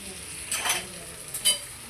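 Chicken added to a pan of onion and green chillies for a chicken curry, a soft sizzle with two brief scraping stirs, quiet and close.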